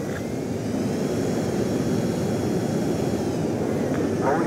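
Jet aircraft on approach to land on a runway in the Ace Combat 7 video game, a steady loud engine roar and whine throughout, with no talk.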